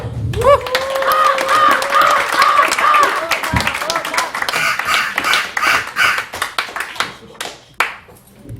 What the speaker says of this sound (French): on applaudit Mademoiselle Corbeau.